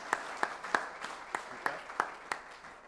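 A small audience at a regional public-sector managers' round table claps for the panel speakers, sparse and fairly faint, with a few distinct claps spaced in a loose rhythm over quiet room noise.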